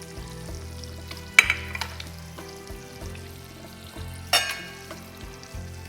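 Small pieces of speckled trout sizzle in a tablespoon of butter in a pan, a steady close frying crackle broken by a couple of sharp clatters of utensils, with no talking.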